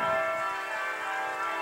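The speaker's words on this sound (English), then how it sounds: "It's been a long time since I managed to get a video at the same time as the St. Norbert's Abbey bells." Church bells of St. Norbert's Abbey ringing at five o'clock, a sustained ringing tone heard from a distance.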